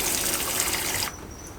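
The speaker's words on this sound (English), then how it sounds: "To turn on the flow of water, move this switch laterally" Water gushes from the cockpit shower hose of a Jeanneau Sun Odyssey 409 sailboat, a loud, close, steady hiss that cuts off abruptly after about a second, leaving faint background noise.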